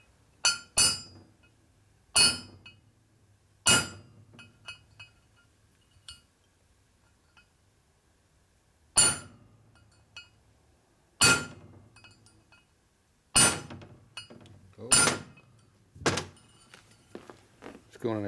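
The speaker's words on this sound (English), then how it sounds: "Now you go ahead and use the punch to knock it all the way down." Sharp metallic hammer blows on a small punch, driving a part down into a 1965 Harley-Davidson Panhead 74ci FLH motor being rebuilt, struck in irregular clusters of close, loud clinks with quiet gaps between.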